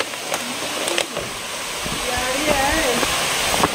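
The Seven Wells waterfall rushes in a constant loud roar while people talk over it.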